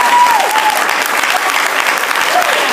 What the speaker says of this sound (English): I think we ought to give Jesus a round of applause.